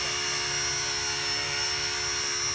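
A Blade Apache RC helicopter flying in throttle-up mode gives off a constant, loud, high-pitched whine with a fixed tonal hum, unbroken and without talk.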